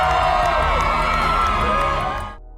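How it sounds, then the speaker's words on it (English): A huge festival crowd at Coachella 2019 roars and cheers in a dense, sustained wall of voices that holds steady before cutting off abruptly near the end. "then melts into a hug so long the crowd cheers like a movie ending"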